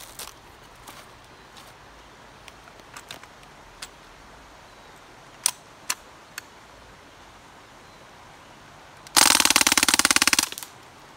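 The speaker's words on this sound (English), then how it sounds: "That's the DPMS SBR, full auto." A DPMS SBR rifle fires a full-auto burst of about a second outdoors, loud and rapid, after scattered faint sharp clicks and single reports, with no talk.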